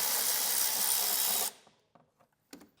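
A power tool whirs loudly and steadily while removing bolts on a 2016 Kia Soul with an extension, then cuts off abruptly, followed by a few faint clicks and metallic taps.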